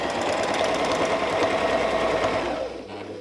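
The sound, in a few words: sewing machine stitching quilt with ruler work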